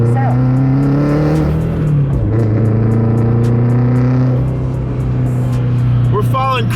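A car engine holds a steady, loud drone, dips briefly as the gear changes, then settles back into a strong hum while driving on a highway.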